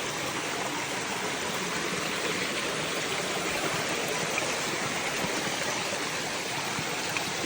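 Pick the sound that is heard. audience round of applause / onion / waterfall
waterfall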